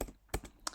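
Computer keyboard typing CSS code, a few quick separate keystroke clicks, close and fairly quiet, with no talking.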